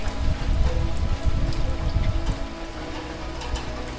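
Steady rain pattering on a car headlight, close and continuous, with scattered drips standing out above the dense hiss.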